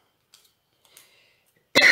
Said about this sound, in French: je ne sais pas pourquoi je tousse